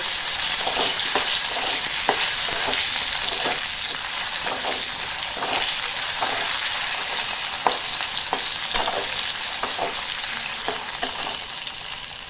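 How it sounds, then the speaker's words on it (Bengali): Cut mango pieces fry and get stirred in hot spiced oil for a summer mango dish, giving a steady close sizzle with repeated soft scraping strokes of stirring throughout, no voices. "এর মধ্যে এবার কেটে রাখা আমগুলো আমি দিয়ে দেব। আমটা দিয়ে একটু নাড়াচাড়া করে নেব।"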